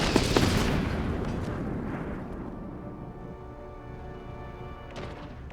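Spaceship weapons fire in a space battle in Endless Space 2: a loud burst of blasts up front that tails off into a long, rumbling decay, with a faint crackle of further shots near the end.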